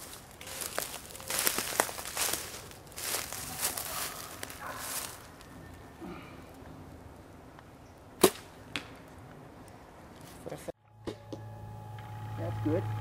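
An arrow with a TwisterNock mechanical nock is loosed at a 40-yard target outdoors, one sharp crack standing out amid rustling and light movement, with a voice heard faintly in the background.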